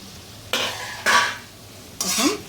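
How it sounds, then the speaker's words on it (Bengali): Potato and yardlong bean fry stirred in a pan, three distinct scraping strokes of a spatula over a light background sizzle, close by. "একবার নাড়াচাড়া করে নিচ্ছি আমি"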